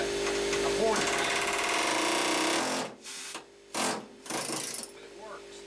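A power tool fitted with a pointer bit grinds out old hard seam sealer on a Ford F150 cab floor, running loud and steady for about three seconds, then cutting in and out in short bursts with voices heard.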